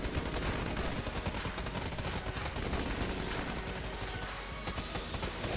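The Dragonfire gun in the game Enter the Gungeon fires in a continuous, dense roaring blast, loud and unbroken throughout with crackling bursts layered over a constant wash of noise.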